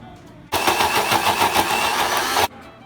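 A blender whirls Bengali kasundi mustard paste mixed with spluttered mustard seeds in one loud, steady burst of about two seconds, starting and stopping abruptly with no talk over it.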